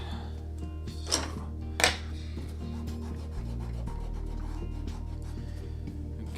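An eraser rubs across a paper drawing with soft scratchy strokes, two brief louder brushing swipes dusting off shavings, over a quiet steady background hum.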